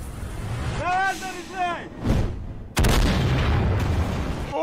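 Cannon blasts from an animated show boom out in a heavy burst, followed by a sustained loud rumble, after animated characters speak.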